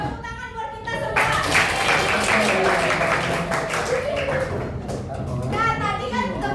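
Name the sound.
class applauding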